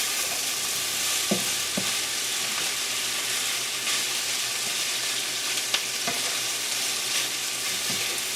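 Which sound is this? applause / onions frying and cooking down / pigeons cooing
onions frying and cooking down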